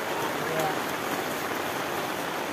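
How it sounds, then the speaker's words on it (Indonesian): Steady rain falls at a riverside campsite near a waterfall, a dense continuous patter filling the whole stretch, with faint voices briefly under it. "Ada hujan lagi ya?"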